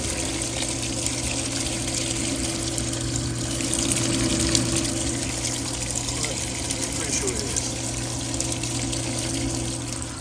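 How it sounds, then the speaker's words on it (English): A vapor blaster's slurry pump circulates abrasive slurry and stirs the bucket, giving a loud, steady churning hum with watery sloshing that runs unbroken throughout. "that exact same equal force is stirring the bucket. So it should be moving in a circle"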